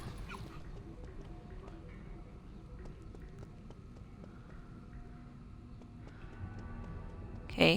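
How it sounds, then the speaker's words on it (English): A dog in the Fortnite video game whimpers and yips in short, soft repeated bursts beneath steady game background sound, ending in a louder burst. "Eight looks like they're playing with the dog."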